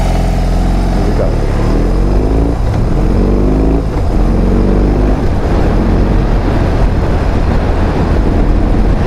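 A BMW R18 motorcycle engine, heard while riding, runs loud and close, its drone rising and falling through gear changes and downshifts over constant road and wind rush.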